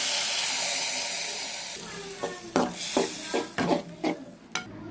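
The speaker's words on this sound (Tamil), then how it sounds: "இப்போ இந்த வேக வச்சுருக்கிறத இதில் கொட்டிக்கிறோம்" Boiled red ponnanganni greens are tipped into a pan already seasoned with cumin and turmeric powder, starting with a steady hiss, then a run of sharp clinks and scrapes of a utensil against the pan, close and moderately loud.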